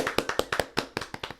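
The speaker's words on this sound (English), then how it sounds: "Thank you. Golf clap." Golf clap, about a dozen light, quick hand taps in an uneven rhythm, close and crisp, with no other sound.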